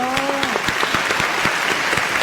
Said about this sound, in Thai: ขอเสียงปรบมือต้อนรับคุณพ่อครับ